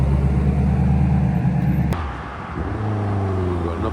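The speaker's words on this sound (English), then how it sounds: "Ooh, got another bike rolling in. So we got a Honda CB650, yeah, 650. Sounded like it." A Honda CB650 motorcycle rumbles in at a classic car and bike breakfast, its engine note dropping then rising through gear changes, mid-distance and fairly loud, with no talk.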